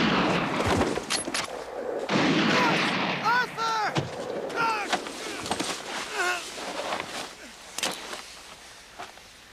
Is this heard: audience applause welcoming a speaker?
no